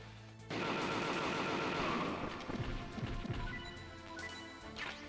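Gunfire against guards in the Metal Gear Solid Integral video game: a sudden loud burst of rapid shots and crashing impacts that breaks into scattered hits and then trails off.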